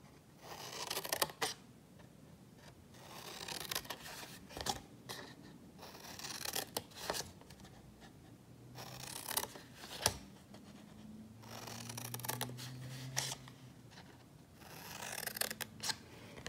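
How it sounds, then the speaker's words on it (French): Scissors snip through the folded paper of a faceted Christmas ornament, giving a series of sharp, close cuts with short pauses between them and no talking. "il suffit tout simplement ici déjà de donner un coup de ciseau sur tous les plis."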